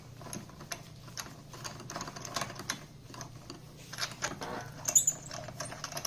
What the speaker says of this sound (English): you're going to start by taking off your lug nuts